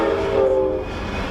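An Amtrak passenger train rumbles past nearby with a loud, sustained low roar and a tonal hum, briefly and without talking.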